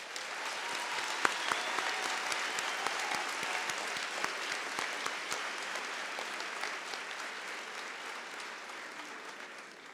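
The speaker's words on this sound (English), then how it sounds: "let's give our graduates one more round of applause" Audience at a university graduation ceremony applauds, steady dense clapping from a large hall crowd sustained for the whole stretch, slowly easing toward the end.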